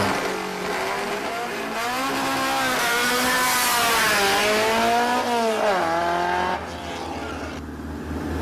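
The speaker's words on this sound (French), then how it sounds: "Une Martini MK37 pilotée par Michel Lapôtre, président d'Arc Autosport." A Martini MK37 race car at a hill climb in Arques-la-Bataille roars through its gears, the engine note rising and falling loud and close, then fading as it pulls away up the course.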